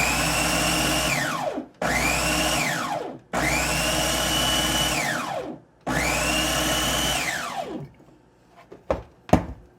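A blender whirs loudly in three long bursts with brief pauses, mixing an aloe vera and honey melt-and-pour soap base, then falls quiet apart from a few sharp knocks at the end.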